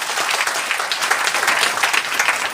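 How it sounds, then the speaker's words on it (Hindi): A large audience claps together in sustained, dense applause at a motivational business seminar, a steady roar of many hands. "जोरदार ताली आप सभी को।"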